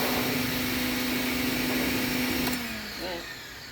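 Water rinses residue out of a truck bed during a car-detailing foam wash, a loud, steady rushing hiss with a motor-like hum that drops off near the end.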